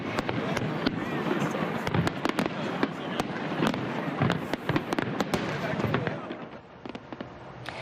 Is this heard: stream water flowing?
no